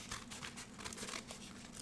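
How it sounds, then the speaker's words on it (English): Product packaging for a Fifine cardioid microphone being cut open, heard as a steady close run of crinkling and tearing plastic and cardboard over about two seconds, fairly quiet and with no talking. "Cut this thing open."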